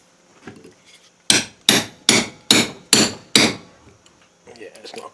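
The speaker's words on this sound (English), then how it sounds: "I'm going to attempt to use a punch and a chisel to get all this out" Six sharp, evenly spaced hammer blows ring out as a punch and chisel are driven into an old axe head to clear out the broken handle, with quiet handling sounds before and after.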